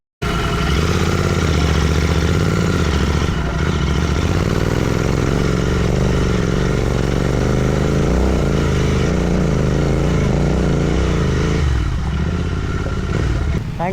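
A motorcycle engine runs steadily and loudly on a steep road near Montalban, Rizal, a continuous close rumble with rattling clatter that shifts slightly in pitch as it climbs.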